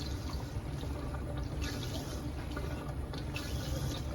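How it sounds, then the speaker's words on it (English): A hand pump pushes water through an HVAC condensate drain, giving a continuous close gurgling, rushing flow with small splashy surges throughout. "you can see it's just pumping that water straight through"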